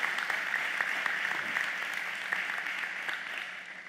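Audience at a governor's education summit applauds, a steady wash of moderate clapping heard from a distance, fading slightly over a few seconds.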